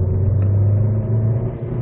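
A turbocharged Chevrolet Aveo RS with an upgraded turbo and modified exhaust accelerates, giving a steady low engine rumble and drone from inside the car with no talking.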